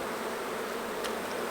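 Honey bees buzz in a close, continuous drone during a beehive inspection, stirred up by the handling. The hum is steady and fairly loud, with no one speaking.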